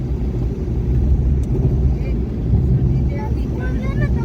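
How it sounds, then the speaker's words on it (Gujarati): A mini tractor crosses ahead on a village road near a Shani temple in Gujarat, its low engine rumble steady and close, with faint talk in the background. "મિની ટ્રેક્ટર આપણાથી આગળ ક્રોસ થઈ રહ્યું છે"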